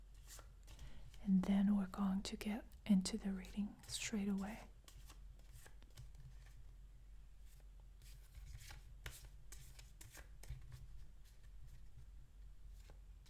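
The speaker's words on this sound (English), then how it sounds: "So I'm just going to shuffle the cards a little longer" Tarot cards are shuffled in quick, crisp riffling bursts over a few seconds, close and soft, followed by quiet handling and a faint whispered voice.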